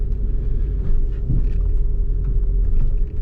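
A Volkswagen Jetta 1.2 TSI turbo petrol engine labours up a hill in a low gear, giving a steady, loud, low droning rumble heard from inside the car with no talk over it.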